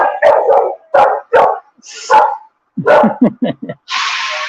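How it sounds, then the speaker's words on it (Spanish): A pit bull dog barks indoors, close and loud, in a run of sharp barks with short gaps and a brief higher yelp partway through. "se puso a ladrar la perrita mía, la Pitbull."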